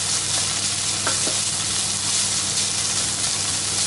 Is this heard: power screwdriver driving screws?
no